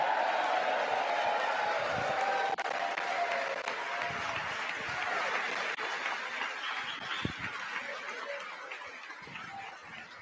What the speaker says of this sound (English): You got a few of the Democrats over there clapping